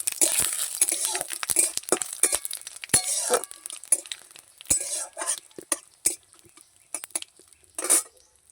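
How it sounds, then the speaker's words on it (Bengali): Dried red chillies, bay leaves and whole cumin fry in a pan, with a steady high sizzle under frequent sharp clinks and scrapes of a utensil against the pan, close and fairly loud. "চারটে শুকনো লঙ্কা দিয়ে দেবো, তেজপাতা দিয়ে দেবো আর গোটা জিরে। এবার আমি একটু ভেজে নেবো।"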